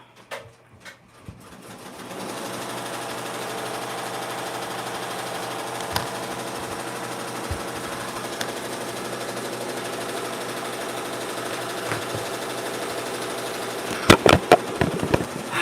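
A sewing machine runs close by while boxy bags are being made, giving a steady mechanical hum that holds for most of the stretch, with a few sharp clicks toward the end.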